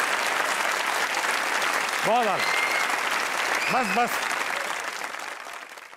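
Studio audience applause on a talk show, continuous clapping that tapers off near the end while someone speaks briefly twice over it.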